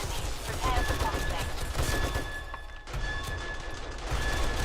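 Automated turrets fire at zombies in a killbox in the video game 7 Days to Die, a dense, continuous clatter of rapid gunfire with thuds and impacts, loud throughout and briefly dipping near the middle.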